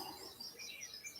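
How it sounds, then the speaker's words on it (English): Cardinals singing somewhere in the distance, their thin, faint chirps scattered across the clip over a soft background hiss. "Oh, the cardinals. Some pretty birds."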